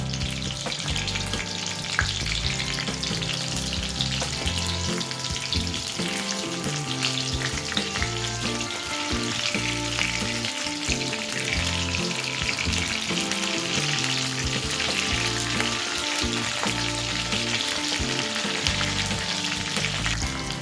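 Small onions frying lightly in a pan for a chicken curry, a steady close hiss of sizzling oil running without a break from start to finish, with no talk over it.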